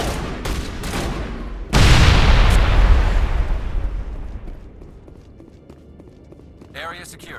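A thrown grenade detonates in the Mass Effect game with a loud, sharp blast that rolls into a long, decaying roar over a couple of seconds. Voices and faint combat noise come before it, and a short voice returns at the end.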